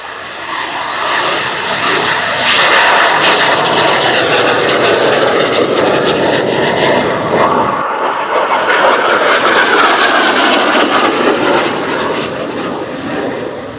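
A McDonnell Douglas AV-8B Harrier II jet performs at the RIAT 2024 airshow, producing a loud, sustained roar that swells and holds throughout with only a brief dip midway, with no voices over it.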